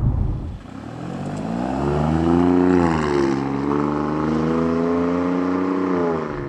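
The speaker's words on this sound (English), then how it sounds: "you've got this growl and this snap, crackle, pop to it, which who doesn't want with a performance sedan" A 2024 Alfa Romeo Giulia Quadrifoglio performance sedan with its exhaust baffles open gives a loud, close growl, its engine pitch swelling and settling as it revs, with no voices over it.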